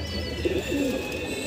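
High flyer pigeons coo softly in a short, low, rolling call, close by and alone over a faint background hum.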